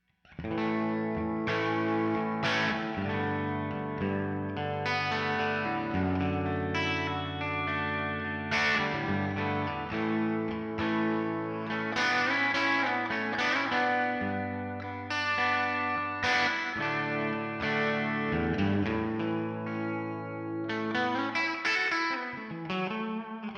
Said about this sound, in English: let's get a couple of clean tones so that you can see what that's like.